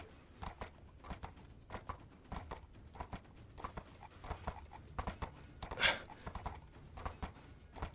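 Hooves clip-clop in a steady walking rhythm on a hard surface, with a constant high insect buzz in the background.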